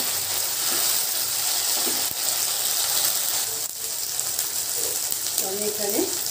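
Chopped tomato goes into a mutton and potato curry frying in a pan, raising a loud steady sizzle with some clattering, and a voice speaks briefly over it.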